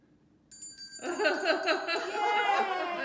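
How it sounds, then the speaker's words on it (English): A bell rung at a knitting group gathering, a few bright chimes ringing out over cheering, laughter and chatter from the room. "Ring your bell."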